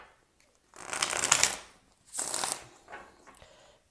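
Tarot cards are shuffled up close in two quick riffling bursts, each about a second long, then a fainter brief rustle, all with no talking.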